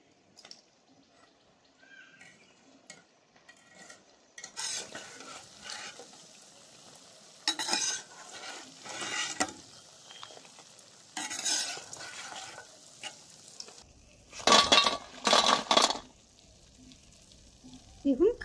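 Moong dal khaja pastries are fried in hot oil, with quiet sizzling broken by louder bursts of bubbling and stirring that come and go, strongest near the end.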